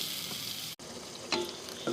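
Egg curry with boiled eggs simmers in a pan after half a glass of boiled water is added: a steady close sizzle that cuts out for an instant, then returns with a couple of light clinks.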